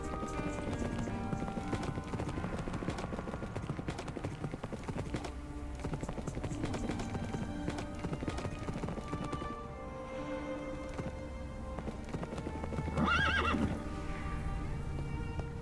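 Horse hooves clip-clopping at a gallop while riding underground in Minecraft, steady rhythmic hoof beats with a whinny near the end, heard over continuous game music and ambient sound.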